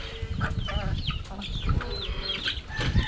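Backyard chickens cluck and chatter while being fed, with several birds calling close by in short overlapping bursts and a bit of wing flapping.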